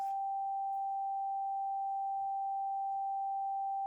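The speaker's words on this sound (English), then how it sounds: "784 hertz or G5." A steady pure sine tone at 784 Hz, the note G5, sounds alone and unbroken from a BJT amplifier project setup, clean and constant in pitch and level.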